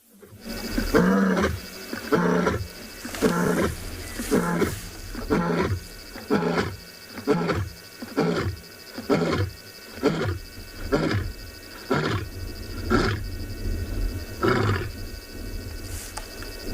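A lioness on a safari drive gives a long series of deep, rhythmic roaring grunts, about a dozen evenly spaced calls building and fading, loud and close with no talk over them.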